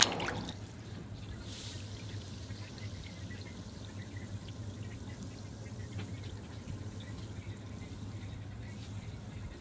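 A bath bomb plunges into milky bath water with a quick splash at the start, followed by a steady, soft fizzing wash that continues without talk.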